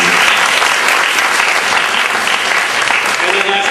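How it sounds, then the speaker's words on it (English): Audience applause at a school drama festival, dense and steady clapping filling the whole stretch, loud and close, with some voices mixed in the crowd noise. "Let's give them all a round of applause."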